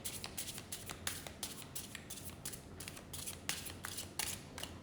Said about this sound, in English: I apologize for shuffling too long, but I just want them to be shuffled.